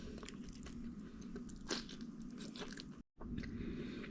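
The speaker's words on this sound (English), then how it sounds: "Let's eat with the shrimp." Close, steady crunching and chewing of shrimp pad thai with bok choy and shiitake mushrooms, a continuous wet mastication with a brief silent gap near the end and no talking.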